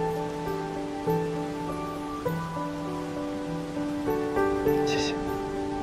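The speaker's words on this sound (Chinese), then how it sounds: "这种暴雨天" Heavy rainstorm at night, a steady wash of rain beneath a sustained musical score that dominates the clip, with no clear talk.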